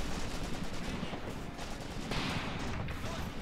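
In the WWII strategy game Graviteam Tactics, battle for Shilovo 1942, rapid machine-gun bursts and scattered rifle shots rattle without pause, dense and fairly close, with no voices.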